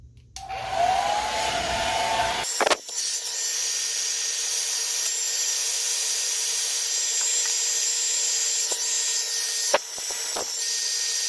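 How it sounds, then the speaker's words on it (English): A hair dryer blows steadily up close, heating heat shrink tubing onto an RC receiver during a drone build, a loud continuous whooshing hum running for several seconds with a few brief handling clicks. "I'm going to use this hair dryer here and go ahead and heat this up till it shrinks back on there."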